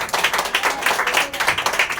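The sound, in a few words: congregation clapping hands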